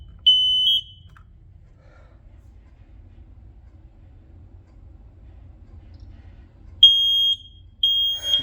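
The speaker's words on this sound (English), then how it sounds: "Testing 4 of these alarms at the same time." Smoke alarms being tested, four at once: a loud high-pitched electronic beep near the start, then after a pause of low background rumble, two more sharp piercing bursts of beeping toward the end.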